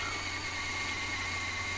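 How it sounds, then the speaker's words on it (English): A Forstner bit drills into the neck pocket of an electric guitar body, giving a steady, continuous whine with a constant high tone over a low motor hum, close and unbroken, with no voices. "So I'm just going to drill down until the back of that portion is flush with the top of the guitar"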